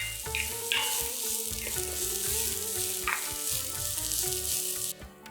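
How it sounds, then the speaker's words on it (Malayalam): Garlic cloves sauté in a pan for a potato masala, giving a loud, continuous crackling sizzle with occasional stirring scrapes. A steady tonal hum runs underneath, and the sizzle drops off abruptly near the end. "3 വെളുത്തുള്ളിയുടെ അല്ലിയും ചേർത്ത് ഒന്ന് 2 മിനിറ്റ് ഇളം തവിട്ട് നിറമാകുന്നവരെ വഴറ്റുക"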